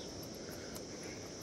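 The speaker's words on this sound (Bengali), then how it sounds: "পাখির ডাক, ঝিঝির ডাক," Crickets chirp steadily in a forest on a mountain trek, a faint, continuous high insect trill over a quiet background of leaf rustle.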